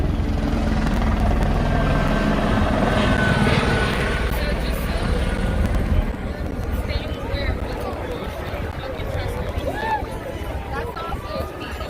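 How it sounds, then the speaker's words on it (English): Helicopter rotors drone loudly overhead and continuously during a street protest march in La Mesa, San Diego, with people talking and a crowd murmuring underneath. "Got all kinds of helicopters up there now."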